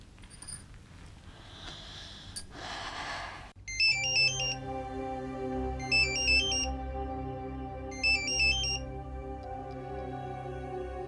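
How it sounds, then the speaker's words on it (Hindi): A phone ringtone plays loudly, a repeating electronic melody in three bursts over sustained tones, after a brief stretch of indistinct background sound. "किसका फोन है कावेरी?"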